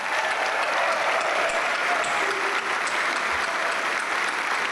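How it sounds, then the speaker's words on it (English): Hall of Fame induction ceremony audience giving another round of applause for Billy Moore, a dense, steady roar of clapping from a large crowd, sustained and even throughout with no voices. "Let's give it one more round of applause for Billy Moore."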